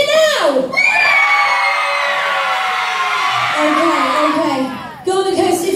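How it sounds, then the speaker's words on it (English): Outdoor stage-event audience at Woolacombe cheers and whoops loudly for several seconds, a dense crowd roar with yells, dropping briefly near the end before surging again. "So Golden Coast, if you think Andy got back to the stage the fastest, cheer now!"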